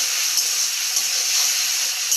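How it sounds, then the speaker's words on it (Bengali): Spices with turmeric powder, salt and a little water sizzle in a pan with a constant, even hiss, close and steady throughout. "মশলাটা একটু কষানো হোক"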